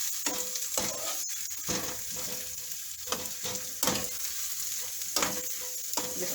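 Green and red peppers sautéing in a pan before eggs go in for an omelette, a steady close sizzle broken by repeated scraping stirs and spatula knocks, with no voices.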